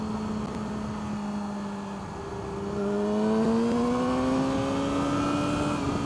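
A vehicle fitted with a Yoshi exhaust with no baffle and an M4 Y pipe accelerates, its engine note climbing in pitch and growing louder partway through, a buzzing tone heard up close with no talking.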